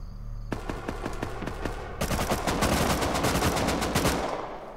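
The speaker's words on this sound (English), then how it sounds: "AK's 5 shots." AK rifle fire in the survival game Rust: a run of rapid, evenly spaced shots, then a denser, louder burst of automatic fire that continues for a few seconds, close and sharp.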